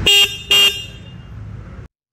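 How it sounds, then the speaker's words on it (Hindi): Two short, loud honks from the single horn of a Bajaj Pulsar N150 motorcycle sound up close, followed by a low idling engine rumble before it stops. "अभी आप हॉर्न की आवाज़ सुन लो"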